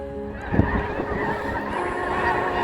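A migrating flock of snow geese honking together at a distance, a dense chorus of overlapping calls.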